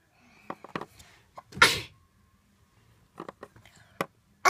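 A person gives one loud, clear sneeze close by, with scattered soft clicks and handling noises before and after it.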